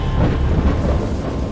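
Rumbling thunder from a storm at sea in the video game Dagon, a continuous heavy low roar with rain-like hiss, loud and steady throughout, no voices.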